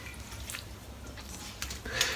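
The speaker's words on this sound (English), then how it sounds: "all I'm doing is dipping my hands in the water and then just splashing water, putting whatever water's on my hands onto my face" Water dipped up in cupped hands and splashed onto the face during a wet shave, a few soft, faint splashes and drips at close range over quiet room noise.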